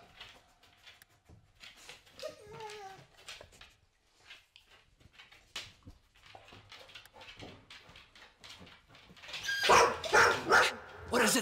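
A dog in the Road 96 video game, with a short whimper and a couple of yips early, then a burst of louder barking and sniffing near the end, mixed with game sounds and scattered voices.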